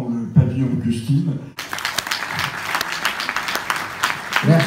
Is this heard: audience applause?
yes